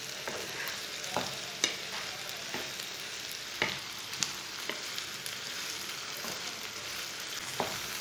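Okra (bhindi) and onion sizzle steadily in a pan while a spoon scrapes and stirs, giving occasional soft clicks over a continuous frying hiss, close up and with no voices.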